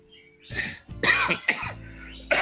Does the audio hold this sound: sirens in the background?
no